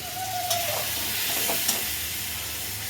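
Milk goes into a pan of vegetarian Bengali curry, setting off a steady close sizzle with a brief pour and a couple of soft stirring scrapes, no voices over it.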